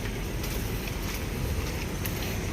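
Steady rushing hiss of air escaping from a vehicle's airbag suspension, continuous and fairly loud, with no voices over it.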